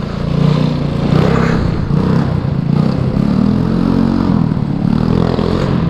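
A 50cc scooter engine runs at a high idle and revs up in waves, a loud, buzzy drone with rattly clatter over it, heard close and without speech.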